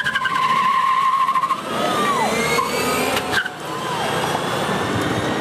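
An electric car and a Porsche launch side by side at a drag race, with loud tire squeal and engine roar sweeping past up close, then fading as the cars pull away down the strip.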